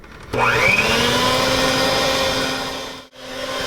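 An electric mixer creaming sugar, butter and shortening, starting abruptly with a rising whir that settles into a steady loud drone, briefly dropping out near the end before resuming.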